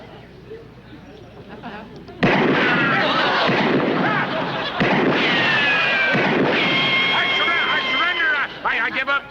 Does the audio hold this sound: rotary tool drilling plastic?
no